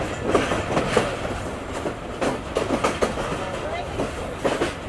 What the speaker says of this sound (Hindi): आहिस्ता आहिस्ता फिर ट्रेन ने हमारे छोड़ दिया समर सट्टा स्टेशन को